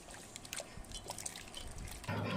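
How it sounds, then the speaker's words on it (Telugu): Water sloshes and trickles as potato slices are rinsed by hand, faint splashes and dribbles ending in a louder pour. "నీళ్ళు మామూలుగా వచ్చే వరకు దీన్ని కడిగేస్తాను"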